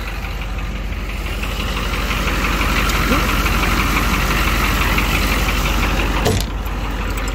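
A stock 1990 AM General M998 Humvee engine runs close by, a steady, rough mid-range rumble with a knocking, clattering texture, holding level throughout apart from a brief thump near the end.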